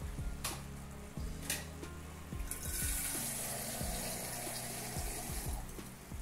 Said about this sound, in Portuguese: E agora, botar um bocadinho de água.